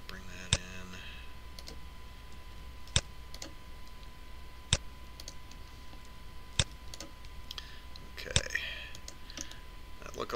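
Sparse, sharp computer keyboard clicks, roughly five or six isolated presses spaced a couple of seconds apart, sound close and crisp over a low steady background hum during 3D modeling work.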